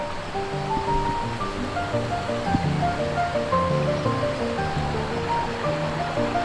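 Steady, dense rush of falling water from the Sungai Gabai waterfall in Malaysia fills the whole clip, loud and continuous with no voices.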